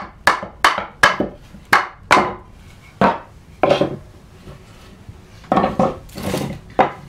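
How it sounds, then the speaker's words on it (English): Hand chisel paring the inside cheek of a wooden mortise, a series of sharp close wooden chops and scrapes in uneven rhythm, with brief pauses between strokes. "clamp this down, and pare the inside cheek of that mortise"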